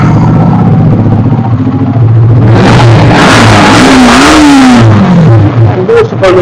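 A blue used motorbike with 17,000 km on it idles, then revs hard in a rising and falling burst before settling back, loud and close.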